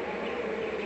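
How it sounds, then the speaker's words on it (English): A dense buzz of many bees fills the air, a continuous, even drone with no pauses or other sounds. "some of those bees are 50, 100 yards from the center of the swarm"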